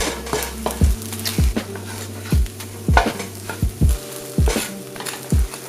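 Bread frying in a pan with butter and olive oil, with a steady soft sizzle under repeated low thumps and scrapes as the slices are turned and stirred, about a dozen close knocks spaced unevenly.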